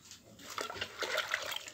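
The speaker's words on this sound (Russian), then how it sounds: "Вот, вышла воды вылить, потому что еще телят надо напоить." Water is poured out of a bucket on a cattle farm, splashing in uneven gushing bursts that grow fuller toward the end, nearby and with no talking.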